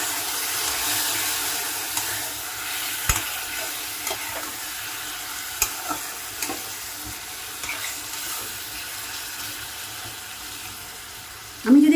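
Curry masala with onion, tomato, ginger, garlic, coriander powder and a splash of water sizzling in a pressure cooker, steady frying hiss broken by scattered clicks of a spoon stirring against metal.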